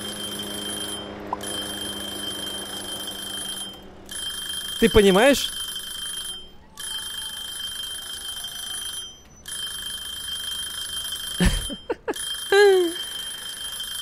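Electronic overtime alarm from the Cooking Simulator video game, a short steady beeping tone pattern repeating in bursts behind an ongoing background hum, with someone talking over it in places.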